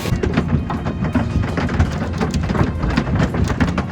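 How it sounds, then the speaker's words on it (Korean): Dense, continuous pounding of ping-pong-ball-sized hailstones striking the ground in southern Utah, a steady loud clatter with scattered sharper impacts throughout. "탁구공만 한 우박이 유타남부에 퍼붓듯 떨어지며 땅을 울리고"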